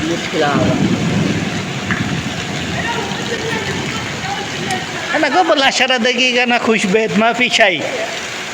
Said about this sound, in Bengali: এই যে চরম বৃষ্টি